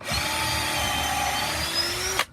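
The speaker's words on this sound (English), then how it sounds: "I have this long drill bit." A power drill with a long drill bit whirs steadily at high speed for about two seconds, close and continuous, then winds down abruptly.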